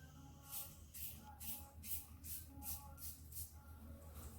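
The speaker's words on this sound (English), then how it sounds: "We're going to spray it on that and see what it does." Short bursts of aerosol spray hiss in a quick series of about eight pulses, faint and close, with light shuffling between them.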